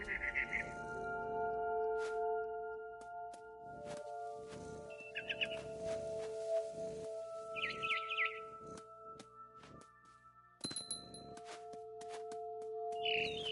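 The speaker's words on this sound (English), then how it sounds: "Then I heard chirping outside my window. It was a barn swallow going back to her nest." A barn swallow gives short bursts of high chirps and twitters, alone against a quiet background with faint steady tones.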